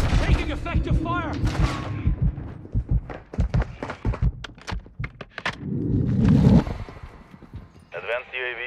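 Gunfire in the video game Call of Duty: Modern Warfare II, with sharp rifle shots cracking out in rapid bursts and single reports amid a busy firefight, mixed with game voice callouts and radio chatter.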